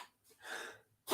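A single sneeze sounds nearby in a live draft watch-party setting, with a short breathy intake building into a sharp burst at the end, quiet overall.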